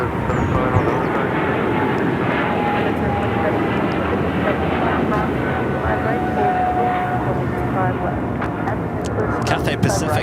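A Boeing 777-300ER jet airliner at Los Angeles International Airport produces a loud, steady engine roar close by, with talk and radio chatter running over it.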